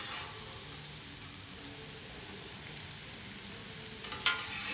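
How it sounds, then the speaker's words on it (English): Corn cooks on a flat-top grill in a steady, close sizzle with a soft constant hiss and occasional small pops, no voices. "for our corn, I'm gonna leave that on. Just make sure this last side getting cooked."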